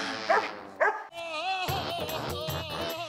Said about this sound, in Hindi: अभी भी भौंका ही जा रहा है